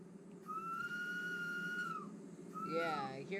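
A steady train whistle from the Arosa line in Train Sim World 2 sounds for about a second and a half, then gives a shorter second blast that bends in pitch. A low rumble of the train runs underneath.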